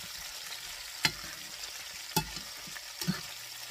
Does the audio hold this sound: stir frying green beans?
yes